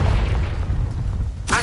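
A Confringo explosive spell blast in Hogwarts Legacy, a deep rumbling boom that rolls on loudly, then a sharp burst near the end.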